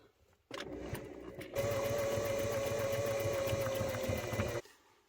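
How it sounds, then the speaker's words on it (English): Sewing machine stitching a pant leg shut, a short start followed by a steady rapid mechanical whir lasting several seconds before stopping, close and clear. "now I'll sew this shut"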